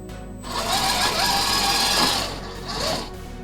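Redcat Gen 8 V2 RC crawler's electric motor whines steadily as the truck eases forward onto a flat slope, a close, continuous buzzing hum that fades briefly near the end before rising again.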